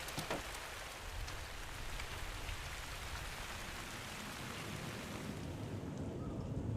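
Hail of small ice pellets falls in a steady, dense patter like heavy rain on a surface, continuous and even throughout, with no voices.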